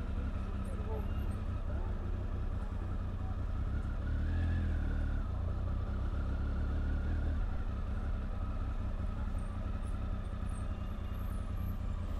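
Road traffic rolls into St Ives in Cornwall as a steady wash of car and truck engines, with a louder vehicle passing midway and a voice talking over it.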